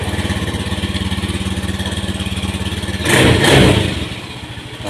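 A motorcycle with a repaired brake-switch wire, previously unable to electric-start, idles with a steady, close putter, then revs briefly in a louder burst before settling back to idle.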